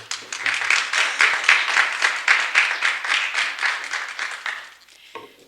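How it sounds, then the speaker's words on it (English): Church-community audience at an African-American Heritage Month celebration applauding steadily and briskly for several seconds, then tapering off. "Please give a round of applause to Reverend Maria Crompton"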